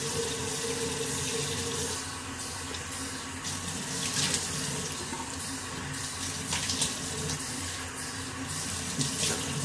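Cold tap water runs steadily into a sink for rinsing after a shave, a continuous close hiss with occasional splashes as hands move through the stream.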